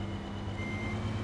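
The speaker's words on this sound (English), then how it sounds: "Oh, cool, it's got a backup sound. That's a good beep-beep backup." A Lamborghini Mach 250VRT tractor in the Farming Simulator game sounds its reversing alarm, a steady tonal beep over a droning engine, close and without talk.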